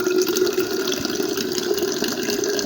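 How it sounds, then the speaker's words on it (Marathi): Water runs from a tap into a container late at night in a hostel, a steady close hiss with a faint tonal ring as it fills, continuous and alone. "मला तहान लागली म्हणून मी पाणी भरायला खाली आलो"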